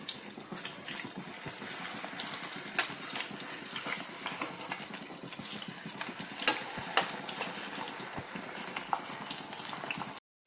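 Three banana fritters (pazhampori) fry in hot oil, a steady close crackling sizzle with scattered pops running throughout.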